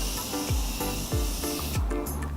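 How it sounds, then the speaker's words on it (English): Morphe setting spray is spritzed onto a face in a few quick, evenly spaced pumps, each a short close hiss over a steady background. "I'm gonna go ahead and spritz my face again with the Morphe spray"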